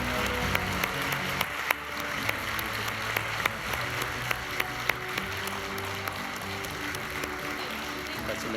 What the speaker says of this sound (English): Let's give them another round of applause when they exit the stage.